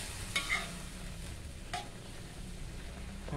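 Ivy gourd and beaten eggs stir-frying in a pan, a steady low sizzle with a couple of brief scraping stirs near the start and middle, no talk.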